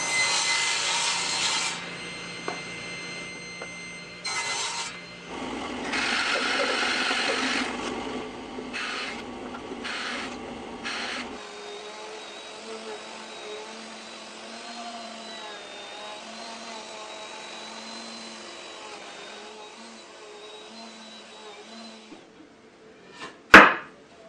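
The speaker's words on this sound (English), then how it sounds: "so I'll cut away most of it with the table saw." A table saw cuts away waste wood from tenons in a series of short bursts, loud close cuts separated by brief gaps, then the blade keeps spinning down alone before a sharp knock at the end.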